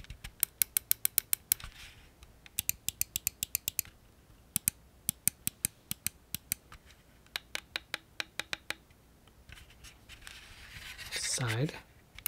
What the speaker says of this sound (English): what about mouse button clicking?